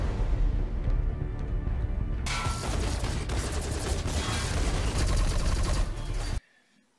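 A ship's weapon fires at the ring in The Expanse, a sudden burst of rapid, crackling bangs cutting in over a low hum and continuing loud and dense for about four seconds before stopping abruptly into near silence.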